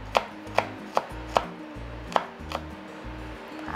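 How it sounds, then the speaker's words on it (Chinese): Garlic cloves chopped finely with a knife on a board, sharp distinct chops coming at a steady pace, six or seven strokes, close and clear with no talk. "把它切碎碎的"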